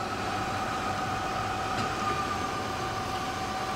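A Hardinge HLV-H precision engine lathe runs with its spindle turning, a steady mechanical hum and whine with a constant tone, close and even throughout with no talking.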